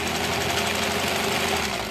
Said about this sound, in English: I feel like this machine could sew through anything though.